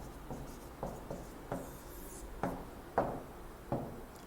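Handwriting on a board or paper, about seven separate short scratchy strokes spaced unevenly, close and fairly quiet over a low background hum, with no voices.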